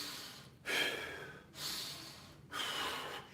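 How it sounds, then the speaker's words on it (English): Deep, aggressive breathing through the nose during an Indian club workout, three forceful close snorting breaths at a steady rhythm about one second apart. "deep, aggressive breathing."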